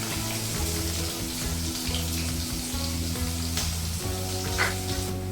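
Mustard seeds, cumin, hing and finely chopped onion sizzle in hot oil for a ridge-gourd bhaji. The steady crackling fry sits over a low, humming tonal background, with occasional sharper pops and no voices.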